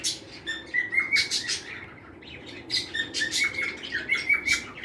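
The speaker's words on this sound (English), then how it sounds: "There's a parrot, a parakeet." Parakeets chirp and tweet repeatedly in bright, high bursts, with a busy flock chattering over a low background rumble.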